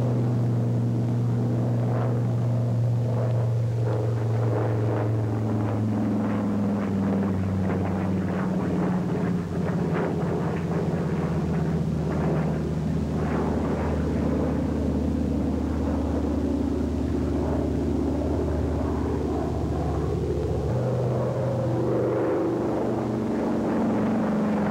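A U.S. Navy Brewster FB2A4 Buccaneer fighter flies a loop, its piston engine and propeller making a continuous low drone that swells and changes pitch as the aircraft climbs over the top and dives back down.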